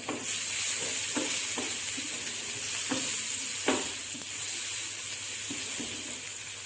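Onion and tomato frying on a tawa for a paneer burger, a steady close sizzle with scattered stirring scrapes and clicks, no talking.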